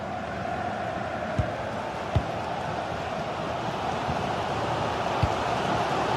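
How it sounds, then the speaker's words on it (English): Football stadium crowd during a GT Sports league match, a steady broad roar of many voices hanging behind the play, with a few sharp thumps cutting through at intervals and no clear swell of cheering. "Well, just listen to this crowd. They want a bit more."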